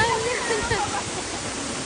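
Aw-asen waterfall roars as a steady, broad rush of falling water, loud and close, with a voice faintly audible in the first second.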